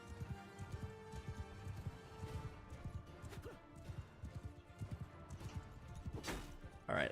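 Horses galloping in the video game Mount & Blade II: Bannerlord, Realm of Thrones mod, a steady drumming of hoofbeats under battle noise and a speaking voice, with a crash near the end.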